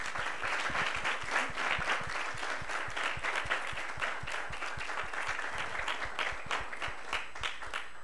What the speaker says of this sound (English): give a round of applause to these amazing panelists